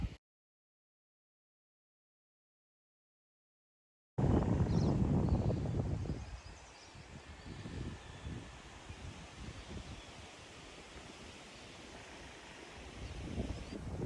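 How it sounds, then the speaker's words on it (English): After several seconds of silence, a strong gust of wind of about 50 miles an hour hits the microphone with a heavy buffeting roar, then settles into a steady, rushing blow. "this very, very windy day. We're having gusts of 50 miles an hour"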